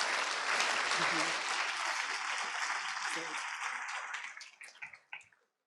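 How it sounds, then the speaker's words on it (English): Sustained applause from a gala audience, steady and full for about four seconds, then thinning into scattered claps before fading out. "Give her a last applause."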